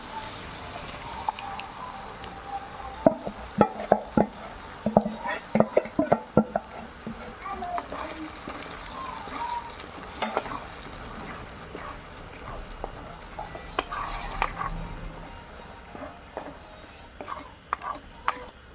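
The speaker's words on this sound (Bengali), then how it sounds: "এবার দিয়ে দেবো তরকার ডাল।" Cooked dal poured into a pan of fried spice paste for egg tarka, with irregular clinking scrapes of a ladle and a soft sizzle and bubbling underneath, busiest early on and then settling into steadier low stirring.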